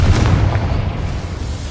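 Hogwarts Legacy spell blasts from Bombarda and Confringo: a loud, continuous booming rumble that rolls on without a break, heavy in the low end.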